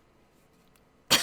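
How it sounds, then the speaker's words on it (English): A single sharp cough erupts near the end after a second of quiet room tone, close and loud, from a person whose cough persists despite a humidifier running. "I turned my humidifier on and I'm still coughing."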